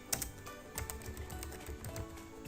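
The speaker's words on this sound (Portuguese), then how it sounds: "Nosso próximo passo é digitar algo nesse campo." Keys clatter on a computer keyboard in quick, steady typing, close and fairly quiet, with no voices.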